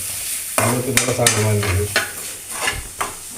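Food is stirred in a pan on low heat with soft sizzling, while a spoon scrapes and taps the metal at irregular intervals, close and fairly loud. Speech is heard faintly.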